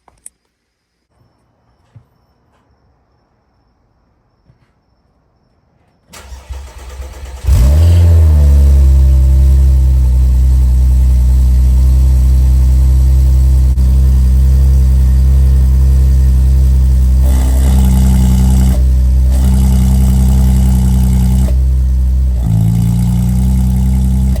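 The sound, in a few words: Audi A6 3.0T with ECS valved exhaust starting and revving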